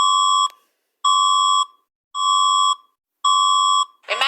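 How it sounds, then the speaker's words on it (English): Philippines EAS emergency alert alarm: four loud, steady electronic tone bursts about half a second each, evenly spaced with short silences, followed by a brief burst of noise at the end. "Is that the Philippines EAS alarm?"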